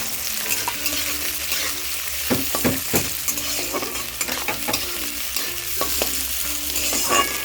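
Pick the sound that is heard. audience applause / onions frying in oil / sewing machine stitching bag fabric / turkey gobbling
onions frying in oil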